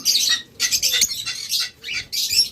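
A pair of Fischer's lovebirds squawks in repeated harsh, high bursts, close and loud, with short gaps between the calls.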